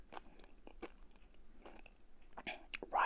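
Someone chews a hard, crunchy chocolate snack with rice, close up and quiet, with irregular crisp bites and crunches that grow louder near the end.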